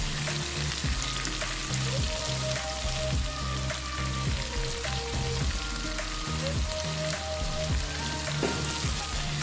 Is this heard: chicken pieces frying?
yes